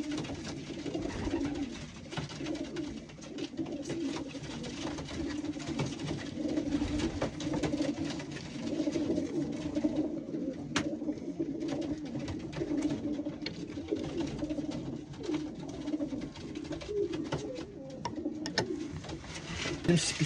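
Racing pigeons coo in a loft, low repeated throaty calls close by, mixed with wing flutters and shuffling, while someone talks intermittently.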